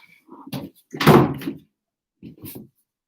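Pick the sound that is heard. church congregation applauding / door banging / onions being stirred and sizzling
door banging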